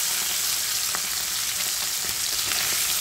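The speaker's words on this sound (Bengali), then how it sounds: "হালকা ভেজে নেব" Tengra fish frying lightly in a pan with oil, giving a steady, close sizzle with a few small pops and crackles throughout.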